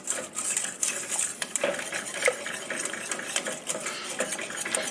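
A spoon stirs a thick chocolate no-bake cookie mixture as it boils in a pot, with close, steady scraping and clinking against the metal that continues throughout and no voices.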